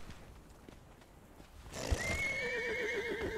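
A horse in the video game Conan Exiles whinnies loudly, its wavering, high-pitched neigh rising after a quiet stretch and carrying on steadily to the end.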